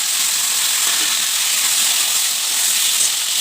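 Chopped pumpkin and potatoes fry in hot oil seasoned with cumin, dried chilli and bay leaf, a steady, close, bright sizzle that hisses evenly throughout with no voices.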